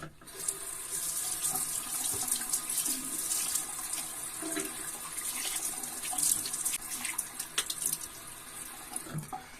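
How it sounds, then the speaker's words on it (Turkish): Tap water runs into a sink while a face is rinsed after shaving with a Jaguar 117/21 shaving brush, a soft continuous splashing with uneven surges, nearby and fairly quiet, with no talking. "Şimdi bir yüzümü yıkayacağım."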